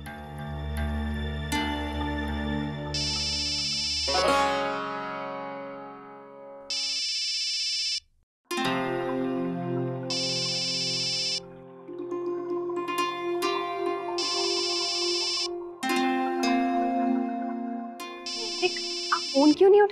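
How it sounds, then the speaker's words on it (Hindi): A mobile phone ringtone plays loudly and repeatedly as a melodic tune with pulsing tones, mixed with a music score and brief voices. "फोन क्यों नहीं उठा रहे?"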